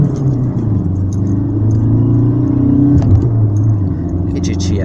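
Car driven fast through city streets, heard from inside as a steady loud engine and road rumble under someone talking throughout.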